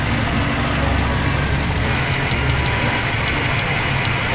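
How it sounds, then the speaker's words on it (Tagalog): A Toyota Rush engine idles steadily with a faint, regular electrical ticking from the ignition coils sounding over the low rumble. "rinig nyo naman yung paglagitik ng kuryente"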